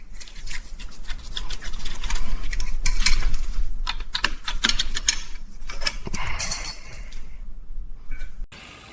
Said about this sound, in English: First bolt goes in by hand, ratchet it down.